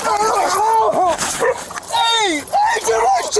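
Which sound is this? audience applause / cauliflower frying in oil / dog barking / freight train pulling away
dog barking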